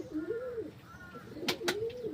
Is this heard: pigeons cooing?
yes